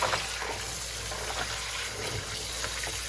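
Lentils, black-eyed peas and yellow peas are washed under running water in a sink, a soft continuous splash and trickle with faint swirling, fairly quiet and close.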